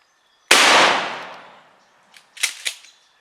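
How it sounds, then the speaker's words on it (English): A single loud shotgun blast fired while hunting birds outdoors rings out suddenly and decays over about a second, followed by a few fainter, brief sounds. "all of a sudden I look over, and Rick's putting his gun up like this"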